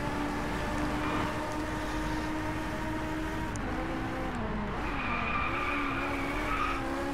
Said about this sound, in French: vous avez vu un petit peu ce bon petit dérapage contrôlé